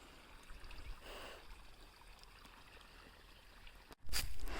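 Irrigation water flows into a farm field and orchard with a steady, fairly close rushing trickle, swelling briefly and then surging louder near the end; no one speaks.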